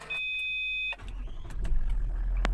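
A Toyota Land Cruiser with an automatic transmission starts up: a steady dashboard chime gives way to the starter cranking and the engine catching into a low rumbling idle, close by with no talking.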